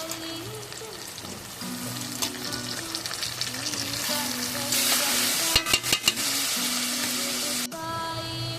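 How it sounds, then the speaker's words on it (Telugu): Eggplant pieces frying in oil with ginger garlic paste, a continuous crackling sizzle with stirring scrapes and a few louder clatters, close and fairly loud. "అల్లం వెల్లుల్లి పేస్ట్ కూడా కొంచెం ఫ్రై అయిన తర్వాత వంకాయ ముక్కల్ని వేసుకోవాలి"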